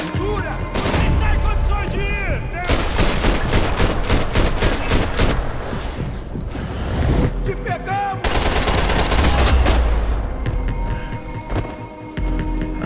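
Gunfire from the video game Max Payne 3, with dense bursts of rapid automatic shots and sharp single cracks in repeated volleys, loud and close, with short lulls between bursts.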